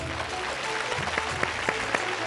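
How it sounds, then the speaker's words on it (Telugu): Studio audience applause on a Telugu television game show, a steady wash of many hands clapping with a few louder individual claps standing out, continuing for a couple of seconds without speech. "Claps one."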